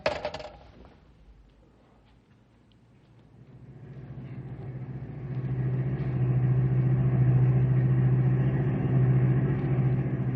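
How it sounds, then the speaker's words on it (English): A car engine rumbles in a radio drama scene, starting quietly and swelling into a steady, fairly loud drone as the vehicle drives along, with no voices. "There's Patrick's car up ahead. Oh, why's he stopped there"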